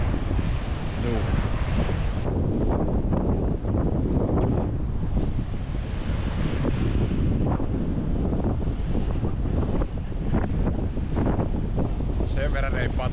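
Strong sea wind roars across the microphone on a coast with rough, white-capped surf, a loud continuous rushing buffet with waves breaking beneath it throughout.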